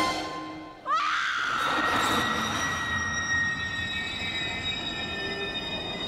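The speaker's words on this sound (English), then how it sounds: "to Jeff Goldblum yawning on a train platform as train brakes screech in the background" Train brakes screech loudly at a platform in a film scene, a sudden sharp squeal starting about a second in after a muffled moment, then sustaining as a long, piercing whine over heavy rumbling rail noise without voices.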